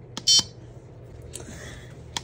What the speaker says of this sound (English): We're gonna pause our timer.